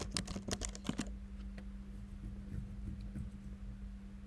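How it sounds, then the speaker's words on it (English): Quick keystrokes on a computer keyboard as a terminal command is typed, a burst of sharp close clicks in the first second followed by a few sparser taps over a steady low hum. "so let me type it"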